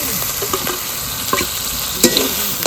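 Chopped tomato with ground green chili, melon seed, cashew and poppy seed pastes fries loudly in a pan. The sizzle is constant, broken by a few stirring scrapes and clinks up close, with no voices.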